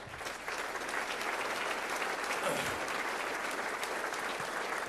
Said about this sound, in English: you should all give yourself a round of applause for being a part of a great organization like that.